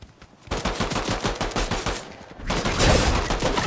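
Close, loud automatic gunfire in a PlayStation shooter: a rapid burst of rhythmic shots, a brief pause, then another dense volley of heavy fire.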